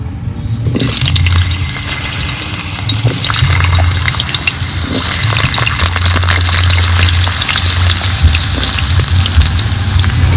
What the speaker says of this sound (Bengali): তেল ভালো করে গরম হয়ে গেছে সমস্ত সবজিগুলো একে একে ভেজে নেব প্রথমে ভাজবো আলু